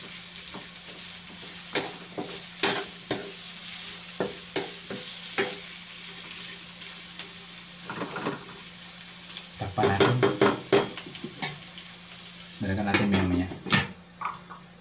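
Pinakbet ingredients with pork cube are stirred in a frying pan, a utensil scraping and clicking in scattered strokes over a steady low sizzle, with busier bursts of stirring toward the end.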